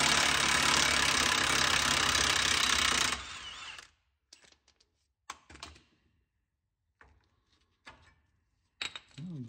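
Ratchet loosening nuts on the Dana 44 front axle of a Ford F150, a loud continuous buzzing ratchet whir for about three seconds, then scattered faint metallic clicks and clanks of parts being handled.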